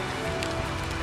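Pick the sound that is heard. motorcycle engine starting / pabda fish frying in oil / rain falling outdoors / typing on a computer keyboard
rain falling outdoors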